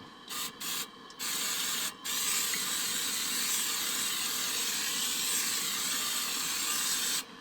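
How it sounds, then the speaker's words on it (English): Spray olive oil goes into a cast iron pan: a continuous hissing spray runs for several seconds after a few short bursts at the start, steady and close, with no talking. "I'm gonna try this spray olive oil"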